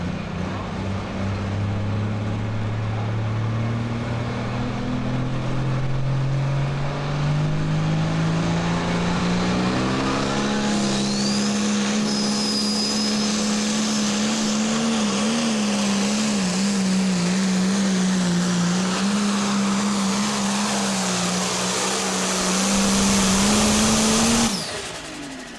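Tractor pull engine on a Carroll County clay track running at half throttle then pinned to full throttle, a loud sustained roar rising in pitch and wavering for over twenty seconds before cutting off.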